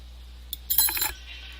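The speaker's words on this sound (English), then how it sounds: "Sorry about the metal noise in the background." Metallic clinking and rattling in the background, a brief cluster of light clanks lasting under a second over a steady low hum.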